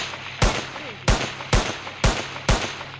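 Five sharp, loud video game gunshots fire one after another at roughly half-second intervals, each with a short booming tail and no talking.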